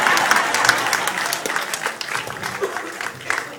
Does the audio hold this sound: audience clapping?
yes